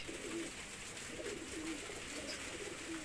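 A pigeon chick at a pigeon seller's in Khulna coos faintly in short, soft, repeated low notes against a steady background hiss.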